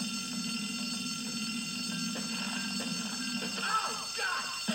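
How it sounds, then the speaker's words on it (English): A game fire alarm rings steadily through the clip, a continuous electronic bell tone over background game music and effects, fairly loud and unbroken. "And then we're going to pull the fire alarm."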